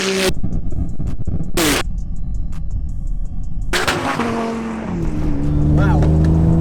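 A 1000-horsepower BMW M3 Touring, Porsche 911 Turbo S and Audi R8 race each other, producing loud bursts of roaring engine noise with sharp cracks and rising gear-change whines, close by and continuous, with possible faint voices underneath.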